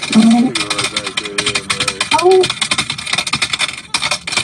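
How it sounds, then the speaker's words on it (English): Rapid clicking of typing on a computer keyboard heard over a phone line, with a person talking over the irregular clatter. "stop with the typing."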